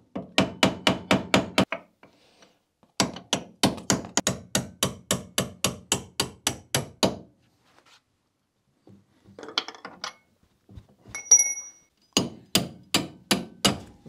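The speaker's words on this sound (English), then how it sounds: "now I should be able to just take the nut off again and then tap it the rest of the way" Hammer tapping a driveshaft nut on a Trabant P60, a steady run of sharp metallic blows in quick bursts with pauses, plus some rustling handling noise between the strikes.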